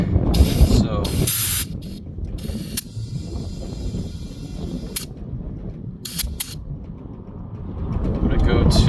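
Compressed air hisses in short bursts into a snow blower tire being pumped up toward 20 PSI, with steady broadband hiss and brief spurts close by.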